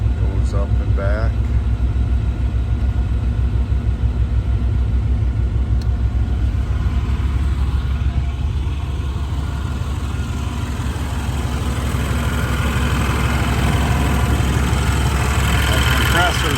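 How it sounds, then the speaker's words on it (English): Air conditioning compressor running in a 1992 Chevrolet Blazer, a low steady engine-bay hum and rumble underneath an idling engine, with someone talking over it. "That compressor is what you're hearing, a little bit of noise out of that compressor."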